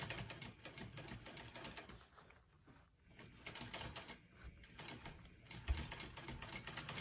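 A sewing machine stitches a seam on a mini backpack, giving off a quiet, close mechanical clatter with a ticking rhythm that rises and falls as the machine runs.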